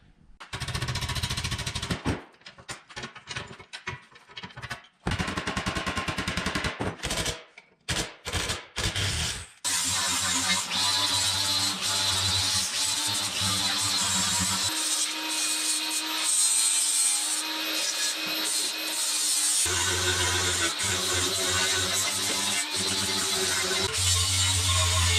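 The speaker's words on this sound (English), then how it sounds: "We've been giving her with the wire wheel and the bench grinder, and we're getting pretty darn close." Ski springs are cleaned on a wire wheel and bench grinder, giving loud, harsh scraping and grinding with stop-start bursts early on and then a long continuous whir whose tone shifts as the part is pressed and lifted.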